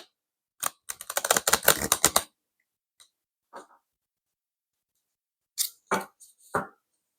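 Playing cards are shuffled close by: a quick run of rapid crisp riffling clicks lasts about a second and a half, followed after a quiet gap by a few short isolated snaps and flicks.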